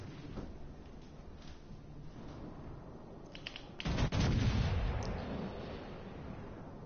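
Heavy naval guns of the battleship Roma boom in a naval warfare game, a rumbling blast swelling near the middle and rolling on amid steady low battle noise.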